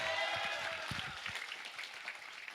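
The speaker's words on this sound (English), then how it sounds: "Come on, you can give the best clap of praise for that." A church congregation clapping in praise during a worship service, dense applause that starts fairly strong with low thumps from the room and then fades to a softer, thinner patter toward the end.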